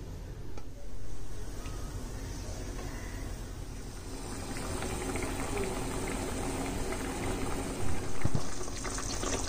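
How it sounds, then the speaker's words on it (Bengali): Prawn malai curry gravy made with two cups of coconut milk bubbles steadily in a pan, giving a continuous close hiss of popping bubbles that lasts throughout with a few louder spurts. "দেখো আমার গ্রেভিটা ফুটে গেছে"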